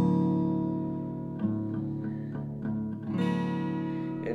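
Ringing guitar chords, tuned about a quarter step flat, sustain and are strummed again a few times at an easy pace, with no talking.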